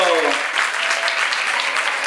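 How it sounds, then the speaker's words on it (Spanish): Audience applause fills a school end-of-year dance festival after a locking routine, a dense steady wash of clapping that stays loud and even throughout with no pauses. "fuerte aplauso para Joe Bloque"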